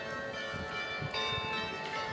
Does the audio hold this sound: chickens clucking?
no